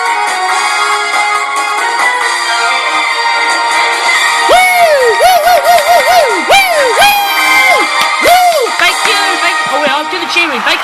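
A live studio audience cheers, whoops and hollers loudly and continuously at the start of a comedy show, with high excited shouts and whistles rising over the roar in the second half.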